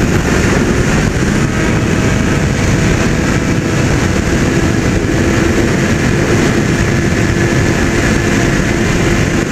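Honda Hornet and Yamaha XJ6 motorcycles in a street race, a loud steady engine roar filling the whole stretch with no clear build or pass-by.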